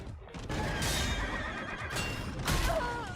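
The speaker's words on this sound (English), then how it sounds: "That's a horse." A horse in the video game Stellar Blade whinnies loudly, with a drawn-out neigh followed by a second burst, over game background noise.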